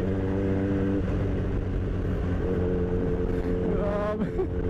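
A Kawasaki Z1000 motorcycle engine drones steadily while riding, loud and close, its pitch shifting as the rider changes speed, with no talking.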